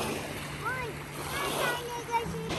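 Waves wash against the shore of Lake Ontario in Toronto, a steady rolling surf with soft splashes, while voices talk faintly over it.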